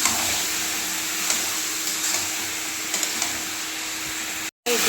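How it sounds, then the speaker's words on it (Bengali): Chicken pieces going into a pan of cooking masala over low heat: a steady, close, loud sizzle with light stirring scrapes throughout, cutting out briefly near the end. No one speaks. "এখন আমি এই চিকেনটা এর মধ্যে দিয়ে দেবো।"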